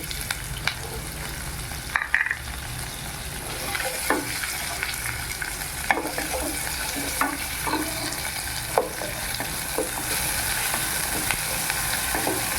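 Onion and garlic frying in a pan for a Tamil sundakkai kuzhambu, a steady hiss of sizzling oil with occasional scrapes and clicks of stirring, alone with no voices.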